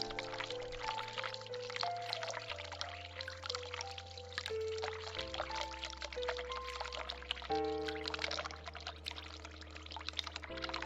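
A tap runs hot water in The Cat Lady game, a quiet steady pour beneath sustained droning music chords.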